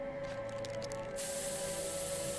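Pepper spray in the video game South Park: The Stick of Truth, a steady hissing spray that bursts louder partway through and keeps blasting continuously to the end, with no speech.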